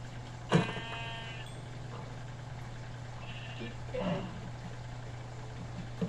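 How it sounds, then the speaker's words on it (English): A single faint sheep bleat rises briefly above a constant low electrical hum, with a few soft, indistinct noises following. "Sheep."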